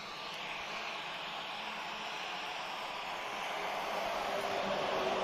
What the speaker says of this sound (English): Okay, so A330 Neo off to Sao Paulo, just lining up now.